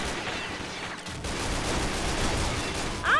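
Dense gunfire in the online shooter Combat Arms, a rapid continuous rattle of shots close and loud, with a brief gap near the start and a sharper burst at the end.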